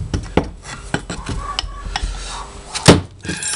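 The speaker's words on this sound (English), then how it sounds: "Always ram around these because they tend to ram a bit loose, just like the corners of the box" Moulding sand being rammed into a foundry casting box around patterns and corners while making a sand mould for a diesel-to-LPG manifold restrictor: a run of dull, irregular thumps and knocks, fairly close, with one heavier impact near the end.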